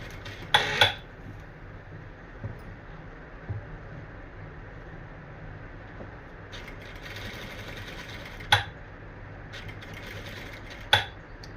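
A sewing machine runs steadily, double-stitching cord piping onto a blouse, with a low continuous motor hum and a few sharp clicks and clacks from adjusting the fabric or presser foot.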